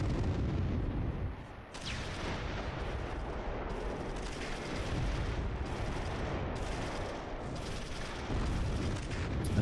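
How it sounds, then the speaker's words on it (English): A mortar artillery barrage in the wartime strategy game Close Combat 3, set at Orlovka: a continuous rumbling roar of distant booms and blasts, steady and loud throughout with a short dip near the start, with no voices. "we got incoming mortars, uh, but it's good. Let them waste the mortars. I'm fine with that. Man, is this artillery barrage gonna ever stop?"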